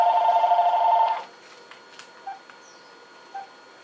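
A telephone rings in a lecture hall, a steady electronic tone sounding for about a second before cutting off, followed by a few faint beeps.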